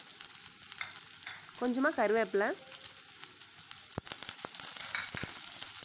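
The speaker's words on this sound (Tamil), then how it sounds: "எல்லாத்தையும் இப்போ நல்லா ஆயிலில் வதக்கி எடுத்துக்கலாம்" Onions, chana dal, urad dal and chillies sautéing in oil in a pan, a steady close crackling sizzle with occasional stirring scrapes, while someone briefly speaks over it.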